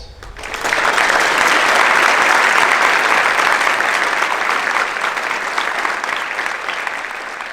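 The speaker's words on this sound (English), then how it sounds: "Please give a warm round of applause to the Northview Chorus" Warm applause from a concert audience for the Northview Chorus swells quickly and holds as a dense, loud wash of clapping, easing slightly toward the end.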